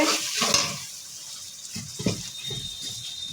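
Sea fish sautéing with spices in a pan over a wood-fired stove, a soft steady sizzle broken by scraping stir strokes near 0.5, 2.0 and 2.5 seconds, close and fairly quiet with no talking.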